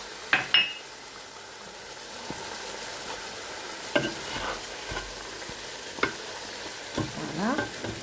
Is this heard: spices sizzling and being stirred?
yes